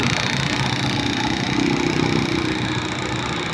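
A Kawasaki Bajaj CT 125 motorcycle engine running after five months unused, a loud, steady, close idle with a continuous rough mechanical drone and no talking.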